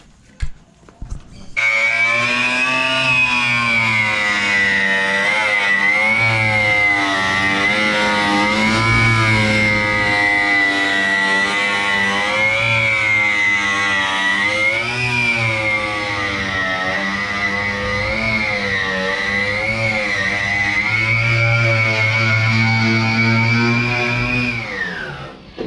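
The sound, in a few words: 1983 Chevrolet Opala engine revving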